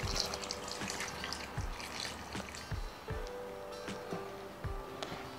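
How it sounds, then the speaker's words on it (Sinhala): Thin coconut milk poured into a pot of curry made with young jackfruit, a soft steady liquid splashing and trickling with faint low knocks of the pot underneath, close and quiet. "පොල් කිරි ටික දිය කිරි ටික තමයි මම එකතු කරගන්නේ"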